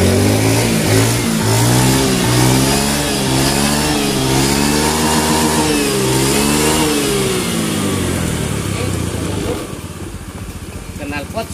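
A Honda Beat FI scooter engine, repaired for oil loss, rough running and a smoky exhaust, runs close and loud, revving up and down in rising and falling sweeps before easing back toward a quieter idle.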